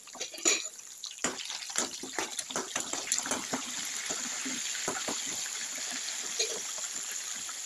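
Spices, curry leaves and lentils sizzle in hot oil for tempering, a busy crackling and popping that settles into a steady, even fry.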